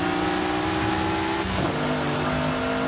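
A powerful car engine in the racing game Forza Horizon 5 revs hard during a long race, a loud, close, sustained whine that shifts pitch midway as it keeps accelerating.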